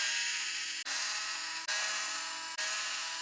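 A 1.5 driver backs four screws out of the front outer portal cover on a Redcat Vertex-10 RC truck. It makes a quiet, steady whirring buzz in three bursts, each split by a brief pause.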